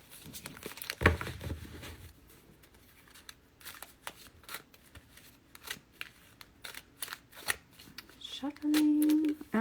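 A deck of tarot cards is shuffled by hand in irregular, rustling bursts and crisp riffles at close range, with a brief voice near the end.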